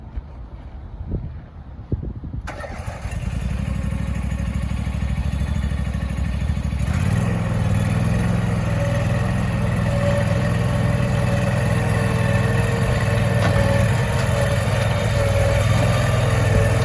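A stump grinder's engine starts after a few faint knocks and then runs with a loud, steady drone that rises in pitch partway through as the machine is being loaded, heard up close with no talking.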